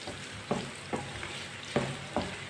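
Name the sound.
tinda (round gourd) frying in a pan, stirred with a spoon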